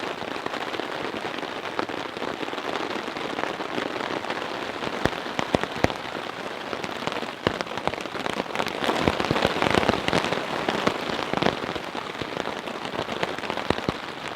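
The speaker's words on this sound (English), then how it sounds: "I've just been kicking back, listening to the rain. It's still coming down, but it's not as hard" Steady rain patters onto a tarp during a storm, a dense close hiss of drops with sharper taps and splats scattered throughout, swelling slightly midway and continuing without pause.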